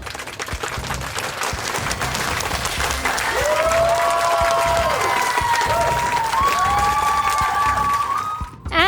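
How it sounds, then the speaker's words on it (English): An audience applauds for a school quiz team on stage, a steady wash of clapping with cheers and whoops rising over it, loud and sustained, cutting off at the end. "A round of applause for LFIM."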